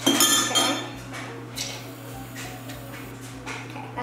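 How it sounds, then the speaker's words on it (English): A spatula scrapes and clinks against a bowl while slime made with shaving cream is stirred, a series of light clattering knocks, loudest at first and then sparser, with no voices. "now mix that with the spatula"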